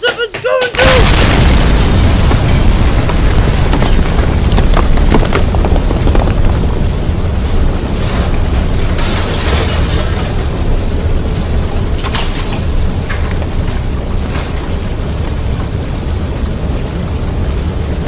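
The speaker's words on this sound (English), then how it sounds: "The potion was explosive!" A magic potion blows up in a sudden loud blast that rolls into a long, sustained roar and rumble, with voices faintly under the din.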